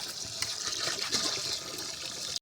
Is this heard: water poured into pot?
yes